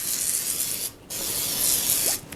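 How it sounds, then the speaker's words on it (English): Close, hissing bursts from a Pampered Chef oil spritzer misting cooking oil onto an air fryer tray, two sprays separated by a brief pause, clear and loud with no talking. "I'm just gonna spray the tray so that they don't stick"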